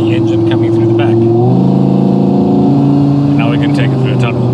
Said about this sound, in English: Opens a window behind me, and that allows you to hear the engine coming through the back.